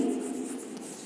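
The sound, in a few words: writing a sentence on a board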